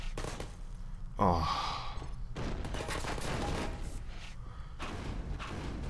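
Gunfire and grenade blasts in the video game Half-Life 2, a heavy thud and bursts of shooting over a continuous dense game soundscape, with a brief exclamation from a voice.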